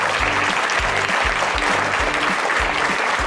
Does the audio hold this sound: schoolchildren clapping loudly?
yes